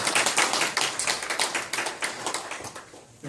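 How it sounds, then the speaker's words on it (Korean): Audience at a Korean cultural concert claps for a standing guest, dense overlapping hand claps in a steady near roar that tapers off toward the end. "박수 한번"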